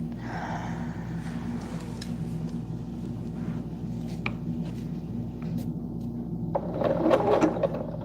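A sewing machine runs steadily while quilting blankets, its low mechanical hum and rattle continuous and close, with small scrapes and a brief louder clatter near the end.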